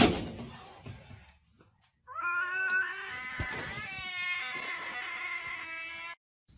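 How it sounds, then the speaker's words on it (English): A cat lets out one long, drawn-out meow lasting about four seconds, loud and close, rising and wavering before cutting off. "That's a long meow."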